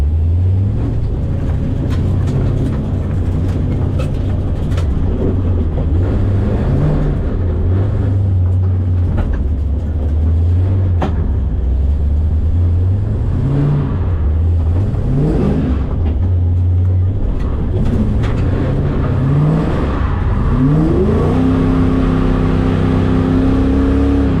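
A drift car on a warm-up run at a French drift championship round in Val d'Argenton, its engine droning loud and close with repeated rising and falling revs, climbing to a sharp high rev toward the end.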